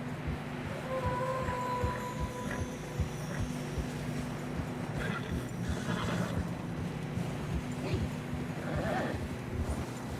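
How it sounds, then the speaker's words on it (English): Horses struggle through deep fresh snow in Red Dead Redemption 2, with whinnies and snorts over a dense rumbling bed of hooves, wind and game ambience; a voice speaks briefly. "Horses are struggling."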